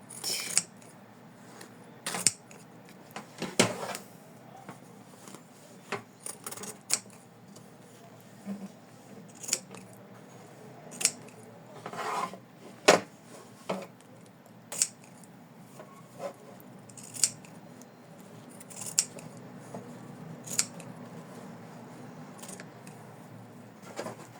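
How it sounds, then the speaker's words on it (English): Scissors trim around an in-the-hoop embroidered heart ornament, a sparse series of faint sharp snips and clicks at irregular intervals over quiet background. "continue our trimming as if there is no hole. And do in the shape of the heart."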